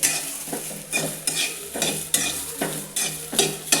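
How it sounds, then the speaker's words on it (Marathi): Cluster beans roast in a pan, stirred with a spatula in rhythmic scraping strokes about twice a second over a continuous close sizzle. "चार पाच मिनटं चांगली गवार भाजून घ्यायचं"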